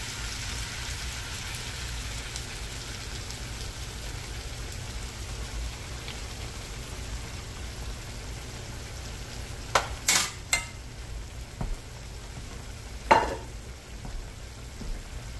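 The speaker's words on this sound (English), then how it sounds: "you're just going to want to let this simmer for a little minute so it can kind of thicken up" A stir-fry of softened peppers, snap peas and sweet and sour sauce simmering and thickening in a pan gives a soft, constant bubbling hiss, with a few brief clinks and taps near the end.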